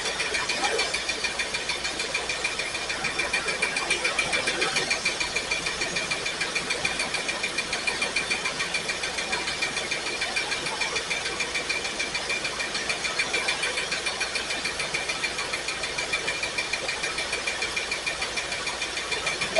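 A Firebird's engine running steadily with one dead cylinder, a dense, unbroken idle drone with fine uneven knocking throughout and no talk.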